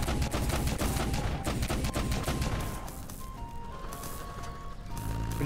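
Ship guns fire in rapid, dense bursts during airship combat in the video game Black Skylands, a loud, continuous rattle of gunfire that eases slightly partway through, with no talking over it.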